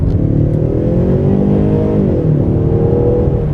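A Ford Mustang drives and accelerates, its engine note loud, close and steady, rising in pitch, dipping briefly, then climbing again over a constant road rumble with no voices.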